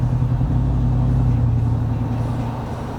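A 2023 Ford F150 engine gets light throttle and shifts out of cylinder deactivation, its close, deep rumble swelling briefly before easing off and fading slightly toward the end.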